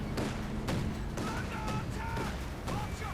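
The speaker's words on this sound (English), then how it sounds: "Flak guns arriving, there we go, firing away." Flak guns blasting away in the Company of Heroes 2 real-time strategy game, a quick series of loud cracking bursts amid battle noise while a commentator talks over it.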